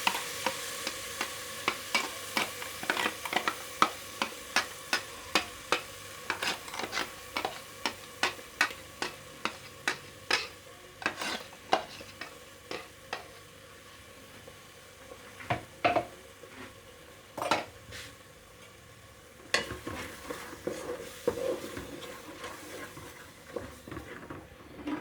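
Ginger garlic paste fries in a pan for chicken, with a soft sizzle under a steady series of sharp spoon clicks and scrapes against the metal, some in quick rhythmic runs, others spaced apart.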